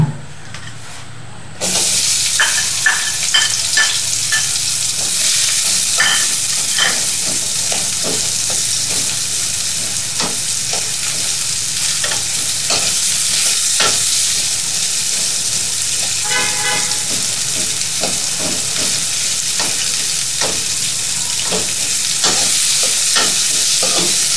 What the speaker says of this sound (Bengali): এখন আমি চুলায় একটু তেল দিয়ে পেঁয়াজগুলাকে সতে করে নিই।